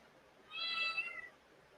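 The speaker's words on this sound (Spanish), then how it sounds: "El gato está maullando." A cat meows once, close but quiet, at midnight in Puerto Rico. The single drawn-out, high, tonal meow stands alone against a faint background hush.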